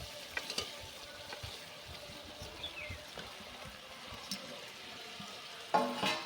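Potatoes sizzle in a pan of spiced masala, a faint, steady frying hiss broken by scraping stirs and a louder burst of sizzle near the end.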